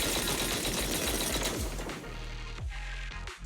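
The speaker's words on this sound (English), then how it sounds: "That was the sound of a heavy cannon?" Loud, dense rapid-fire heavy cannon blasts and booms in Zenless Zone Zero dominate at first, then thin out into scattered heavy impacts with debris rattling as the barrage fades.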